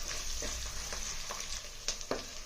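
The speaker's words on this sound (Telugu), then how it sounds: "ఇప్పుడు దీనిలో కరివేపాకు ఉల్లిపాయలు పచ్చిమిరపకాయలు వేసి లైట్ గోల్డెన్ బ్రౌన్ వచ్చిన దాకా వేయించుకోవాలి" Curry leaves, sliced onions and green chillies fry in hot oil for a mixed vegetable, chana dal and cashew curry, giving a steady close sizzle broken by a few sharp spatula scrapes and stirring clicks, with no voices.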